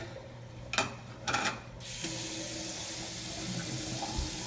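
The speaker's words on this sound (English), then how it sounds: "you just pour it down. I like to rinse it out so the smell's gone" Aquarium filter waste water poured down a sink drain, a steady splashing rush of water after two brief sloshing bursts, close and alone.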